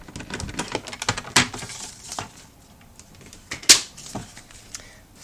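Paper being scored with a score board, a tool drawn along in a series of short scraping and tapping strokes, with two sharper clicks standing out, close up and with no talking.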